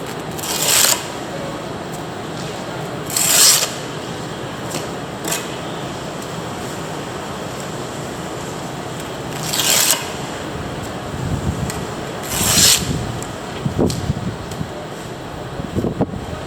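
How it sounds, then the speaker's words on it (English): A steel mason's trowel spreads mortar on concrete block, giving several short, sharp scrapes scattered over a steady background hum of fan or wind noise. "Tip your trowel, spread. Clean it off."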